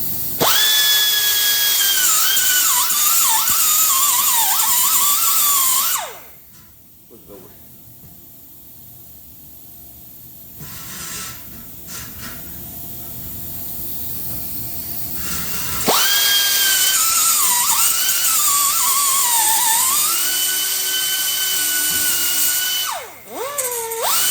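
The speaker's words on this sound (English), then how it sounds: "it can squeeze it a little bit if we just put a couple of slits in this where they're not going to be noticed" A power tool cuts slits into a Bassani True Duals exhaust pipe on a Harley Softail with a loud, high-pitched grinding whine. It runs in two long bursts with a quieter pause between them, close to the listener.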